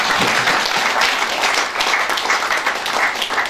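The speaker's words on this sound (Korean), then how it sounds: "우리 하나님께 영광의 박수, 우리 목사님들 감사하다고 큰 박수 한번 부탁드립니다" Sustained applause from a congregation at a morning prayer breakfast, a dense, steady wash of many hands clapping together, loud and continuous throughout without speech over it.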